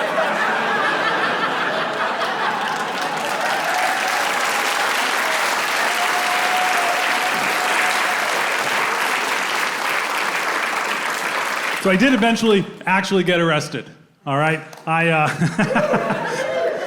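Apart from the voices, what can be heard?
audience applause at comedy show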